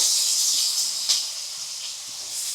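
Mustard seeds, chilli and onion frying in hot oil on low-medium flame for beetroot palya, a steady bright hiss with a couple of small pops and one sharper crackle, close and alone.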